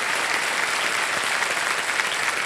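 Studio audience applause on the KBC quiz show floor, a dense, steady wash of many hands clapping at full strength throughout, no talk over it.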